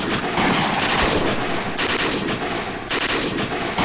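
Dense, continuous automatic gunfire from the video game Iron Front rattles on without a break, loud and close, with several weapons firing at once and no voices.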